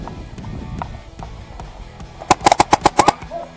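Airsoft gun firing in a team skirmish, a quick burst of about eight sharp snapping shots close by after a stretch of quieter rustling.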